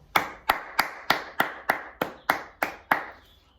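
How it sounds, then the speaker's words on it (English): Ten sharp, evenly spaced claps from nursery children at a school assembly ring out one after another in unison, each crisp hit decaying quickly. "we're going to give them a really big, loud clap."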